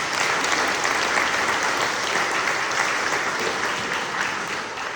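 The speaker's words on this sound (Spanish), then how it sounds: "Pues vamos a darles un fuerte aplauso," A church congregation at Sunday Mass in Lent applauds loudly and steadily, a dense wash of many hands clapping that holds for the whole stretch and fades only slightly at the end.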